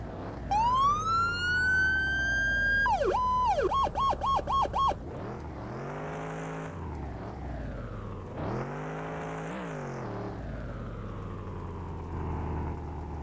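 A car pulls away in the video game Into The Flames, its engine note climbing through gear shifts with a whirring, rising tone, followed by further revving surges, loud and alone without talk.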